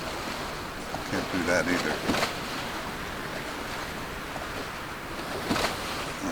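Wind and ocean waves in the sailing game Sailwind during stormy weather, a steady rushing roar of gusts and surf with occasional swells, while someone talks over it.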